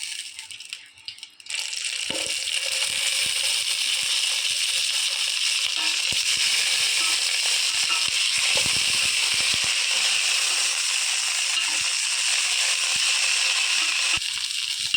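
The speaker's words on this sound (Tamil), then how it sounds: "நல்லா ஆயில் ஹீட் ஆனோடனே நம்ம நாலாக கீறி வச்சுருக்கிற அந்த கத்திரிக்காவை போடுறோம்" Slit eggplant quarters dropped into hot sesame oil for a Kongu-style oil brinjal dish. A brief quiet lead-in gives way to loud, continuous crackling sizzle that spits and rattles steadily to the end, up close with no talking.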